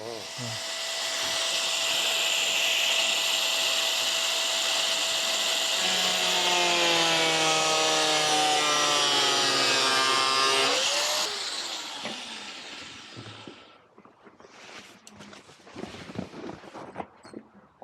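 A seat mount for a BMW R 18 bagger seat is shaved down with a power tool, a loud, close, sustained grinding whine that changes pitch as it bites, then stops and gives way to quieter handling noises and people talking.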